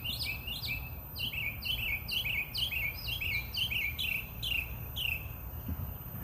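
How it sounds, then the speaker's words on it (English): Birds sing in a garden, a repeated bright chirping phrase about twice a second over a steady low rumble of background noise, with no talking. "The birds here are amazing."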